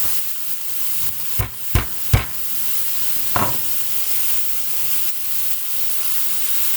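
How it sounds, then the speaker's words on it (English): A steak fries in a pan with fresh thyme and crushed garlic, a steady close sizzle with a few sharp crackling bursts as the herbs hit the hot fat, then a continuous hiss. "we're going to put the fresh thyme right in the pan with this crushed garlic"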